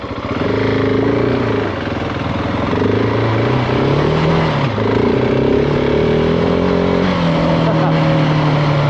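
A GasGas ES 700 motorcycle in off-road mode with traction control off roars close by, its engine note holding a loud, steady drone while the pitch climbs and dips through repeated revs.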